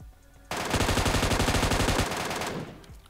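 A machine gun in PUBG Mobile's Metro Royale mode fires one loud, sustained burst of rapid shots lasting about two seconds, cutting in abruptly and then stopping, with no talk over it.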